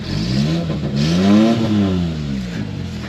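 Turbocharged Suzuki Carry mini truck engine revving on its stock exhaust, rising to a peak and falling back in one long rev, loud and close, with a raspy, slightly rough tone and no talking.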